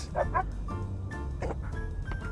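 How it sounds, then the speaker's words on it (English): Zombie dogs in the video game The Movies give short, gruff barks and yips in a quick run of bursts, close and fairly loud over a low background rumble. "Oh, these are sort of Resident Evil zombie dogs."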